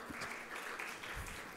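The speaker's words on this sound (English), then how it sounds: "Please welcome with a round of applause," Conference audience applauding to welcome a speaker on stage at the IBMC Fest in Sharjah, a steady wash of clapping throughout, moderately loud and without voices.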